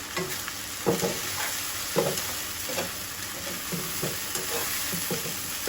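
Spiced fry of taki fish being stirred in a frying pan, a steady sizzle broken by repeated scraping strokes of the spoon roughly once a second, close and fairly loud.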